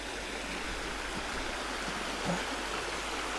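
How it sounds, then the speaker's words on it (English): A low river runs along its bank in a country park, a steady broadband rush of flowing water with no voices over it. "It's always worth remembering when you're on the edge of the river."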